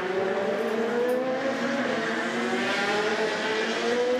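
Race cars run through the Porsche curves during an endurance race, a continuous loud engine roar with shifting pitch as the cars sweep through the bends in traffic.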